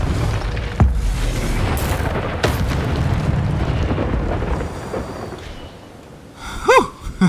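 A fire spell cast in the video game Hogwarts Legacy bursts out as a loud, booming roar that swells and dies away over several seconds, followed near the end by brief warbling magical tones.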